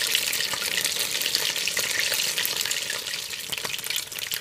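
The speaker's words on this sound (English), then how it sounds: "I'm just gonna leave them to fry, guys, for at least 5 minutes on each side." Fish fillets frying in a pan, a steady, dense, loud sizzle and crackle that holds evenly throughout with no voices.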